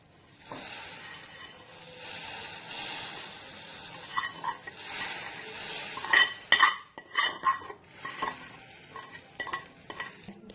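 Vermicelli being stirred into milk in a pot for sheer khurma: soft scraping swirls with scattered metallic clinks of a spoon against the pan, quiet and close, growing busier midway.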